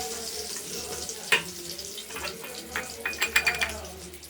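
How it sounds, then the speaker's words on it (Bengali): Eggplant frying in oil in a wok, a soft steady sizzle punctuated by sharp spatula scrapes and clinks against the pan, clustered toward the end. "আগে বেগুনটা ভেজে নিই বেগুনটা ভাজা হচ্ছে"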